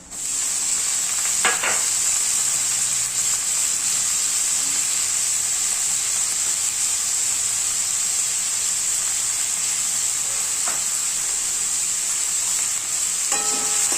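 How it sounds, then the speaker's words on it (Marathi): Green chili and onion fry in oil for poha with a loud, steady hiss and sizzle close by, broken by a few sharp clacks of stirring, with no talking. "हिरवी चिली आहे ना जरा थोडी फ्राय होऊन द्यायची आहे. आणि आता त्याच्यामध्ये आहे ना कांदा टाकून घ्यायचा."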